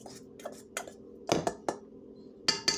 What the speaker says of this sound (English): we're going to stir this around so that we make sure that all the seasonings are spread around